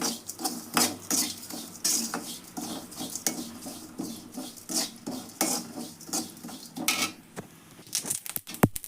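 Whole spices for garam masala roast in a little oil in a pan, giving close, busy crackling and scraping with sharp metallic clinks of a utensil against the pan throughout.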